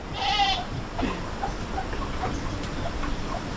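Goats bleat repeatedly on a farm after heavy rain, a clear bleat up close at first, then fainter calls farther off over steady outdoor background noise.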